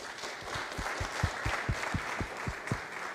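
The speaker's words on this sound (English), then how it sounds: "Let's give them a round of applause." A city council meeting room full of people claps steadily, a dense patter of hands with a few sharper, louder claps standing out, no talking over it.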